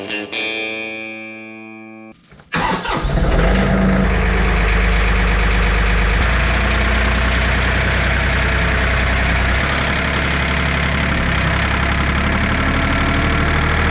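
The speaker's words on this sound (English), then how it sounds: "So get the tractor up to the house" A tractor engine, the kind fitted with a hydraulic three-point hitch, starts up after a brief sustained tone and then runs loud and steady close by, knocking and rumbling continuously for more than ten seconds with nobody speaking over it.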